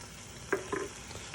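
Sriracha being stirred into a sofrito-style pepper base in a pan, a soft low sizzle with a couple of brief spoon scrapes and clicks, fairly quiet and close.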